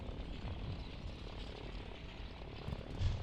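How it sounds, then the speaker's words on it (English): Helicopters flying in during a real-time strategy video game battle, a steady broadband rotor and engine drone that fills the whole stretch at moderate loudness, with no talk over it. "But the helicopters are coming in"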